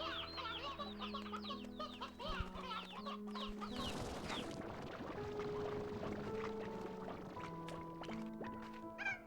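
Chickens cluck in a Slime Rancher 2 ranch, a busy overlapping chorus of clucks layered over a steady game music bed, with a brief splashy burst midway.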